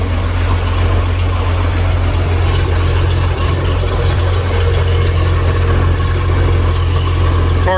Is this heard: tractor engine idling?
yes